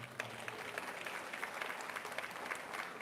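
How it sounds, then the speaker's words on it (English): A community audience at a Pride Month lunch celebration gives the council a round of applause, steady dense clapping that is fairly faint and distant, with some speech mixed in. "let's give our council one more round of applause"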